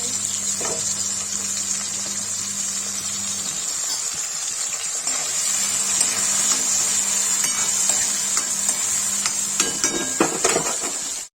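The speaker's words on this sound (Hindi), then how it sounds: "देखिए मशरूम फ्राई हो गया" Mushrooms frying in oil in a pan on the stove, a steady bright sizzle that runs throughout, with occasional clinks and scrapes of a spatula stirring.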